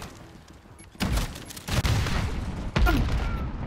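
Explosions and heavy gunfire in the video game Modern Warfare multiplayer, sudden loud blasts about a second apart with rumbling tails and a sustained roar between them.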